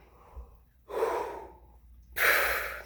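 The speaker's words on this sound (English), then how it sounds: "So here's a good sounding breath" A deep, relaxed breath drawn in before trumpet playing, heard as two separate soft breathy inhales, the first around a second long and the second brighter and airier, alone with no talk.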